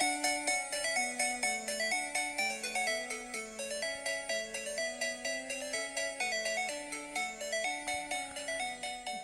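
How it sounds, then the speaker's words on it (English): Pokemon tune made in GarageBand plays as an iPhone ringtone, a bright, steady melody of plucked synth notes over a stepping bass line, repeating in a bouncy rhythm, alone and moderately loud. "So now I have Pokemon ringtones on my phone"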